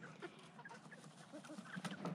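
Chickens in a carry cage cluck and murmur softly and close by, with overlapping low clucks and a few sharper calls rising near the end, against a faint outdoor background.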